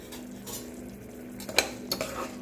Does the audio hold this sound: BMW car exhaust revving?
no